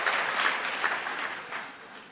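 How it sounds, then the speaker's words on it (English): A graduation ceremony crowd applauds a university choir steadily, a dense wash of clapping from many hands that holds for a couple of seconds and begins to thin toward the end. "Let's give them another round of applause."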